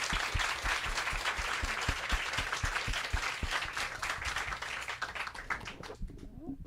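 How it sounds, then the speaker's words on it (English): A book-event audience gives a round of applause, dense steady clapping from many hands that carries on for several seconds before fading out quickly near the end. "Let's give them another round of applause."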